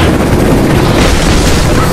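A rocket explosion in the video game Rise of the Tomb Raider, heard as a loud, sustained, roaring boom that fills the whole two seconds with dense rumbling noise and no quiet gaps.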